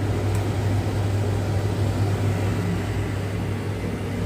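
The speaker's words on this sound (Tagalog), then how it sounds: "Iyon natin yung ating extractor para hindi maamoy yung" A kitchen extractor fan runs over a stove where oil is heating for frying fish, giving a loud, steady, unbroken hum with no talk.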